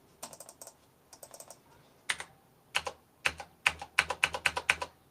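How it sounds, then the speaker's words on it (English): Fingers type on a computer keyboard that is not great, giving a near series of crisp clicks. Short clusters give way to a faster, louder run of about twenty keystrokes, with no voices. "The keyboard I'm using is not great."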